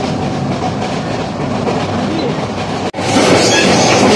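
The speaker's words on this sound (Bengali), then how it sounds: "বেশ গতিতেই চলছে ট্রেনটা।" A Suborno Express train on Bangladesh Railway, riding in a new Korean coach, rumbles steadily at speed with a loud, continuous roar; a brief dropout near the three-second mark is followed by a slightly louder rush.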